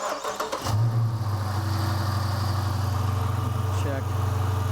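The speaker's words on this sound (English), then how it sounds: "go ahead and start the car" A car engine cranks and catches, then settles into a steady, loud idle rumble that carries on to the end.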